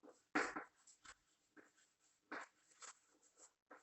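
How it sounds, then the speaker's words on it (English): Pen scratches on paper as a definition is written out, short quiet strokes in irregular bursts with pauses between them in a still room. "just I will write the definition"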